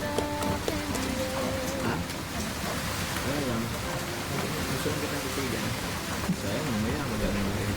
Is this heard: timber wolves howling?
no